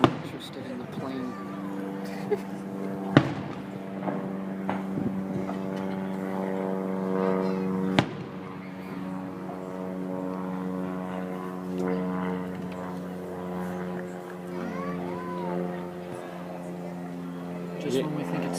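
A propeller airplane drones steadily overhead during an evening fireworks show in Mentor, Ohio, in 2014. Its hum holds for the whole stretch, with a few sharp firework pops and people chatting nearby.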